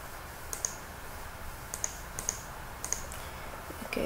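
Sharp mouse clicks, a few spaced single and double taps over a quiet room hiss, close to the microphone with no voices.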